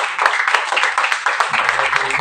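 Congregation applause at a Sunday church service, close, vigorous clapping from many people with voices rising over it toward the end.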